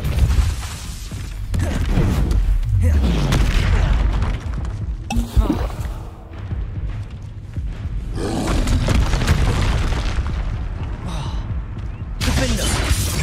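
Hogwarts Legacy spell combat brings a busy string of booming blasts, bursts and crackling impacts, some sharp and some rolling, repeating through a hectic fight with a voice casting over them.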